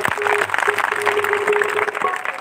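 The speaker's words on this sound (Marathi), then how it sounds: "टाळ्या वाजवा" Audience clapping during a kirtan in Amravati, a brisk burst of hand claps under a steady droning tone, with voices mixed in.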